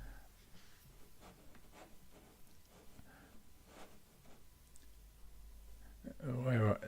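Computer keyboard typing, a quiet irregular patter of soft clicks in short bursts across several seconds, close and faint, with a voice briefly speaking near the end.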